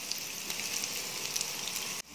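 Hot oil sizzles and crackles steadily as corn fritters fry in a wok, a dense close spatter that cuts off sharply near the end.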